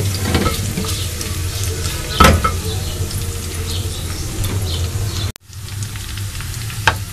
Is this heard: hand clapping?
no